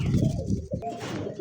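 Pigeons coo nearby, a short, soft burst of low throaty cooing that rises and falls, heard alone and close.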